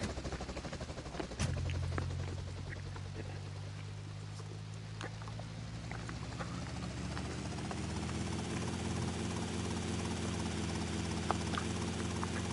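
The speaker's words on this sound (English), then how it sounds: "I might actually get the VCN Maverick here. This is kind of the most like agile one I imagine of these helicopters in the game." VCN Maverick helicopter in Grand Theft Auto: Vice City – The Definitive Edition: a steady, low rotor and engine drone starts abruptly and then runs on continuously at moderate volume, with no talk over it.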